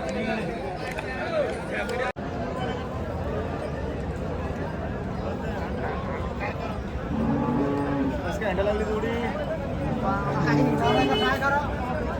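Cattle moo repeatedly amid a busy crowd at a cattle and bullock market in Deulgaon Raja, with people talking throughout and steady background bustle.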